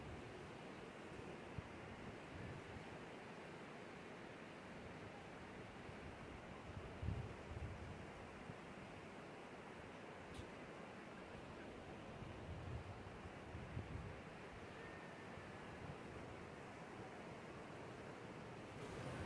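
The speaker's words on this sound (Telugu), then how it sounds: "ఈ సంగమం దగ్గర మాత్రం అసలు నీళ్ళది సౌండ్ చాలా బాగా వినపడుతుంది" Rushing river water at the confluence of the Alaknanda and Mandakini rivers, a steady broadband roar close by with no pauses, like fast-flowing current.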